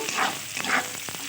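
Soaked Gobindobhog rice stir-fried with other ingredients in a pan, soft sizzling under a few quick scraping strokes of a spatula, close and fairly quiet, without speech.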